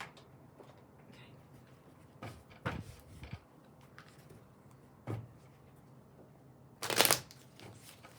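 Playing cards being shuffled in a quiet room during a tarot-style reading, several separate riffles and handling bursts spread out, the last one loudest and closest.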